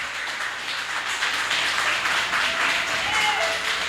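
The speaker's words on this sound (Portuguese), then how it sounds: "Aplaude a Ele bem forte." A church congregation breaks into steady, dense clapping that fills the room and holds at an even level, with a brief voice rising faintly near the end.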